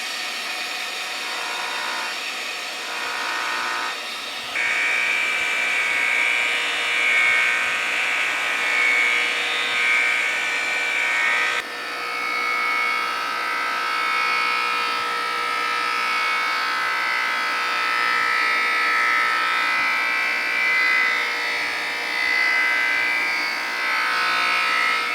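Soft, floppy used buffing wheel spinning steadily with white compound as it polishes a vintage Porsche 356 hubcap, a continuous hum and hiss that swells when the part is pressed against it.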